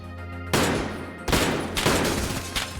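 Gunfire in the Escape From Tarkov video game: three loud bursts of rapid shots, each separated by a short pause, ringing out over a low steady background hum.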